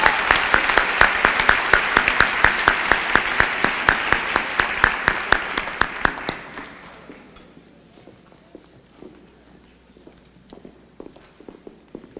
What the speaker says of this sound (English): Let's give them one more round of applause as they head back to their seats.